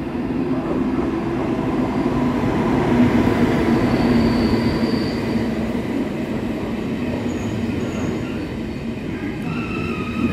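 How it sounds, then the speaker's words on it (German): A German ICE high-speed train pulls into a station in Dortmund, a loud continuous rumble of wheels and carriages with faint squeals and a high whine, close and steady throughout. "So, da kommt mein ICE."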